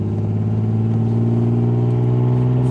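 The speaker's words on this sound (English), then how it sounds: "Hopefully you guys like some exhaust noise and the occasional misfire from fuel injector failing." Car exhaust droning steadily at close range, a rough continuous engine rumble from a vehicle with a failing fuel injector, with a faint uneven pulse in the tone and no talking.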